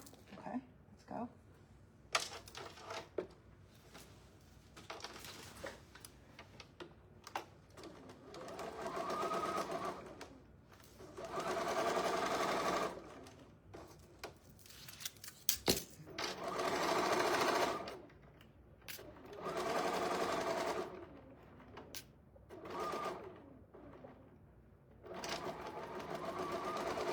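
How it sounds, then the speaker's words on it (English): A sewing machine stitches a candy corn table runner in several short runs, close whirring bursts separated by pauses, with people talking now and then. "All right, now we're gonna sew this."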